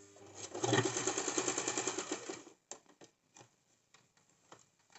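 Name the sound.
sewing machine lock stitching a pant seam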